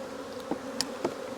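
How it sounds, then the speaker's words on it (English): Honey bees hum around an open single brood chamber hive during an inspection, a steady close buzz with a few brief sharper clicks or taps over it. "I'm not going to take any brood out of this hive."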